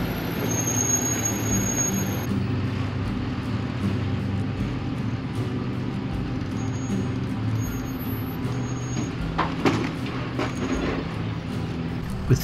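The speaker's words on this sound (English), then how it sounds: "With Jeff's brakes heating up, it was getting easier and easier to hear how far away he was" The overheated brakes of a full-size overland truck squeal in thin, high-pitched bursts on a rocky off-road trail. The intermittent whines come from some distance, over a low, steady engine and vehicle rumble.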